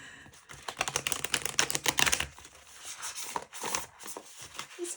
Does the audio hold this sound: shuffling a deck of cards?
yes